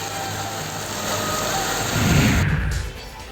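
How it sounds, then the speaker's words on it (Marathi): Heavy rain with stormy wind sweeping through a district in Maharashtra, a steady broadband roar that swells louder near the end before easing off, with no voices. "वादळी वाऱ्यासह मुसळधार पाऊस सुरू असल्यामुळे नुकसानीची देखील शक्यता वर्तवण्यात येते"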